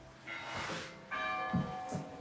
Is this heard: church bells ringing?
yes